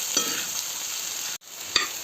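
Bhaya flower vegetable with onion stir-fries in a pan with a steady, fairly quiet sizzle, broken by a couple of brief utensil scrapes and a short cut in the sound.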